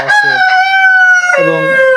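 A Tiger breed rooster on a chicken farm crows once, loud and very close, a long harmonic call that rises, holds and drops at the end.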